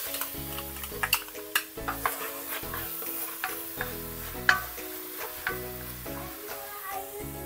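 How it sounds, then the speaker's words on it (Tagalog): Garlic sizzles steadily while it is sautéed in a frying pan at close range, with a utensil stirring and scraping in a repeating rhythm on top of the frying hiss. "Ngayon naman, magigisa na tayo ng bawang at sibuyas."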